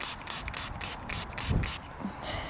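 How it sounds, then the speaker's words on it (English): A hand sprayer gives about six quick rhythmic bursts of water onto a freshly dug-up metal detecting find in a windy field, followed by faint handling sounds. "Let's give it a little spray."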